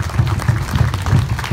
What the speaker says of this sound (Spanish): fuerte aplauso para ustedes, hermanos, hermanas de Argentina y de Bolivia